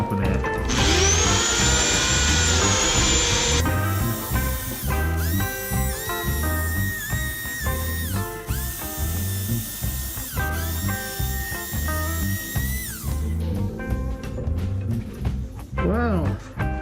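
Pecan wood and epoxy resin bowl spinning on a lathe while being sanded with 1000 grit paper, a steady loud whir with shifting pitch as the sanding pressure changes, a voice talking over it.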